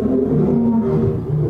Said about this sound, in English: I love that we have the lions roaring.